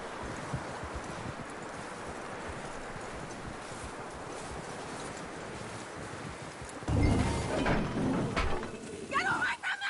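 Horse hooves clip-clop in a steady walking rhythm in Red Dead Redemption 2, moderately close, before a burst of louder scuffling and game sounds near the end.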